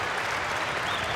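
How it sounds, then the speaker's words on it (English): A tennis crowd at the US Open 2002 quarterfinal applauds, a steady wash of many hands clapping from the stands, heard alone without any commentary over it. "Crowd starting to get behind Monica"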